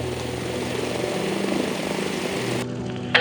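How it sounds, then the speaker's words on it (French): Aircraft engines roar steadily as planes take off and land in rapid succession at a busy airfield operating like an aircraft carrier deck, a loud sustained drone that cuts off abruptly near the end. "on assiste alors à un ballet incessant de décollage et d'atterrissage"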